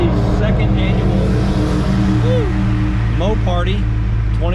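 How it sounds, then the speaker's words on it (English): Loud, continuous engine roar from nearby open-header nostalgia drag cars at a Mopar car show, rumbling steadily throughout, with voices talking underneath. "it's a little noisy with some of the open header nostalgia type cars."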